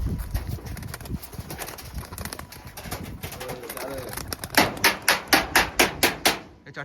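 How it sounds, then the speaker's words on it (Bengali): Pigeons released from a home loft take off together, a rapid series of about ten loud, evenly spaced wing claps near the end, preceded by soft cooing and rustling while people talk in the background. "এই 4টে পায়রা বেরিয়ে গেল"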